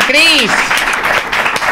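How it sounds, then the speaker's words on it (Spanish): Brief applause and cheering from a live studio audience at a Spanish comedy show, with a voice calling out over the clapping in a short, lively burst. "¡Un aplauso, por favor!"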